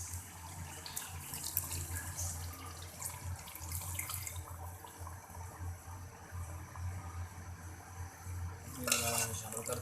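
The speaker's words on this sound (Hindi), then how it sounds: "अब इसमें शामिल कर देंगे उसका बचा हुआ पानी जो है, यखनी जो है।" Leftover yakhni broth poured into a pot of beef paya, a quiet continuous liquid splash and trickle with faint clinks of utensils against the pot, ending in a brief louder burst.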